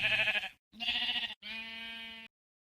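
Three bleats from a sheep in the video game Floppy Flock, close and clear, each about half a second long with brief silent gaps between them, the last one steady and drawn out.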